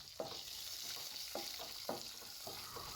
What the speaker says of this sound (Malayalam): കടുകും ഇട്ട് ചുവന്നുള്ളിയും വറ്റൽ മുളകും കറിവേപ്പിലയും എല്ലാം കൂടി ഇട്ട് നല്ലപോലെ ഇളക്കി മൂപ്പിച്ചെടുക്കണം.